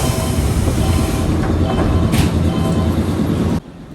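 A Nankai electric train rumbles loudly into Misaki Koen station in Japan, steady low wheel-and-motor roar with a brief brake squeal, cutting off abruptly near the end.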